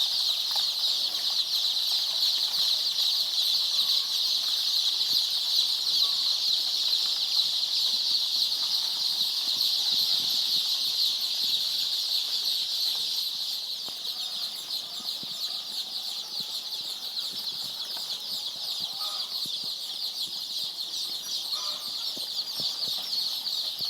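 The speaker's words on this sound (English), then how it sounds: "These are 1200 1 day old layers birds. You can see they are very active" Dense, continuous high-pitched cheeping from a brooder of 1,200 one-day-old layer chicks, a steady overlapping chorus close up with no talk.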